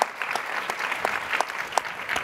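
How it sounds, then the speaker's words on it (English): Audience applause at a panel event, a short, steady patter of many hands clapping at moderate loudness with a few louder individual claps poking through. "I think that we'll give that one a big clap too."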